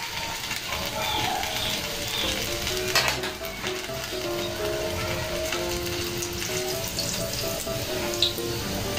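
Potato rolls frying in hot oil give off a steady, fairly loud sizzle that runs the whole time, with a few faint clinks and stirring sounds over it.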